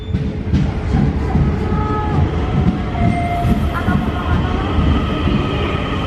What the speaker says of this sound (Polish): I taki spokojny ten pociąg, tu w ogóle nie ma ludzi, prawda?